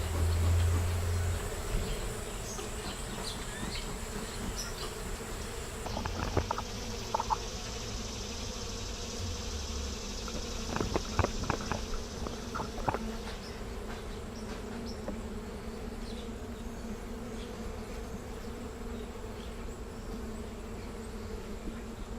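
Honey bees buzz around an open hive with bees crawling on the lid. The swarm gives a steady, fairly faint drone with occasional louder passes of single bees close by, and no voices.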